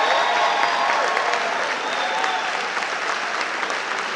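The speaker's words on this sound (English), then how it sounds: "as we applaud your astounding efforts" Sustained applause fills a graduation commencement ceremony as the graduates turn their tassels, a dense, steady wash of clapping from a large crowd with no one speaking over it.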